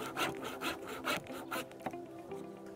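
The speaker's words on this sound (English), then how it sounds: "So after cutting the tenon like this," A handsaw or rasp works a wooden tenon for a stool, producing steady rhythmic rubbing strokes, close and moderately loud, about five passes with no talking.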